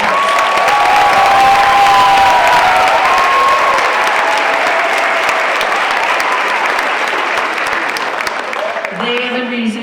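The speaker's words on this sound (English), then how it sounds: "a big round of applause for our graduates." Audience applause for graduates at an adult education center graduation ceremony, loud sustained clapping with some cheering and whoops from a large crowd, fading slightly before a voice begins at the very end.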